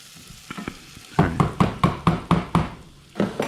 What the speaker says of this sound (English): Garlic only has to cook in this setting for like 30 seconds to a minute.